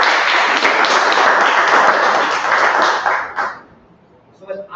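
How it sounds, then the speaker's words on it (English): Applause fills a Toastmasters meeting room, a steady wash of many hands clapping loudly for over three seconds before fading out, with a brief voice starting up at the end. "So please have a big round of applause for this."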